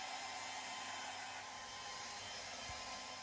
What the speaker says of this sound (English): Have to blow dry it a little bit and then I'm ready.